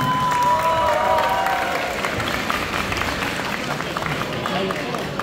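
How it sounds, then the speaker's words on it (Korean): Spectators at a youth amateur boxing festival clap and cheer for a children's bout, a busy crowd noise with a whistle-like tone early on and some voices mixed in. "자, 힘찬 응원의 박수 부탁드리겠습니다."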